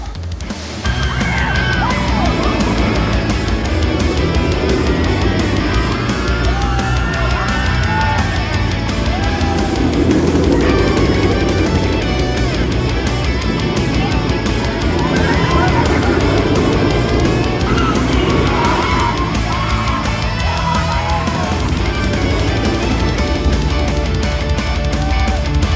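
Riding the Full Throttle launched roller coaster, a Premier Rides Rocket 3 at Six Flags Magic Mountain in Valencia, California: loud, continuous wind roar and track rumble throughout the run, with screams and shouts of riders mixed in.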